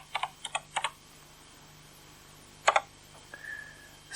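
Several quick bursts of keystrokes on a 1983-era home computer keyboard, a short run of clicks, a pause, then another pair of taps, close and fairly quiet in a still room.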